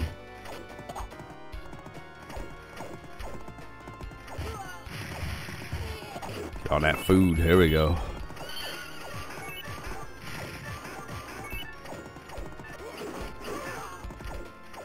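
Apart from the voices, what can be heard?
horse galloping and neighing in video game Knights of the Round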